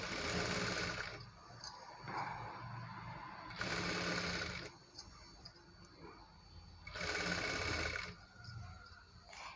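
A sewing machine stitches lining cloth onto the main fabric, running in three loud whirring bursts separated by quieter pauses, heard close with no talking.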